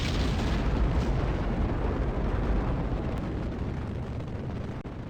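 Rocket solid boosters igniting at liftoff, a loud continuous roaring rumble that holds steady and slowly fades slightly over several seconds, with no voices.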